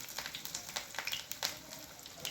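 Elephant creeper leaf rolls (patra vadi) frying in oil over low heat, a soft, fairly faint crackling sizzle with scattered pops throughout, no voices.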